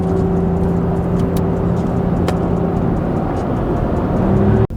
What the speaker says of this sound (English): Right now we're driving through an abandoned flipping road.